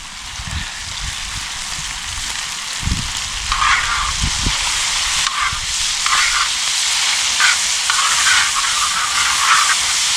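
Sliced peppers and beans fry in a pan with a steady, loud sizzle, broken by low scraping and knocking as a utensil stirs them.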